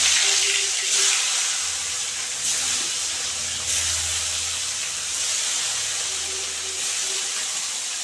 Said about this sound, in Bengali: মাছ এগুলো ভাজা হয়ে গেছে কই মাছ